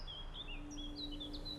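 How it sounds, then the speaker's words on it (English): Several birds chirp and trill in short bright phrases over a low steady ambient hum, a calm outdoor scene in The Witcher 3; no voices. "The birds singing, the bees buzzing."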